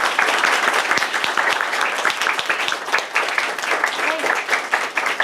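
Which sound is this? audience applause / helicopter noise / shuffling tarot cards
audience applause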